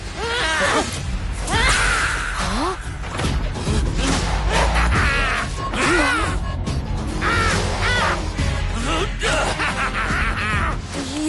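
Crows caw loudly and repeatedly in a cartoon scene, the harsh calls overlapping a busy, dense soundtrack throughout.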